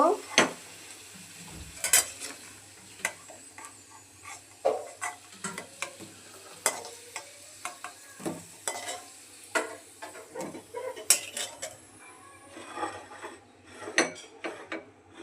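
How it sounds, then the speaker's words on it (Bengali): Potatoes fry in hot oil while a utensil repeatedly knocks and scrapes the pan, sharp irregular clatters over a low, quiet sizzle. "আলুগুলো লাল করে ভেজে নিচ্ছি"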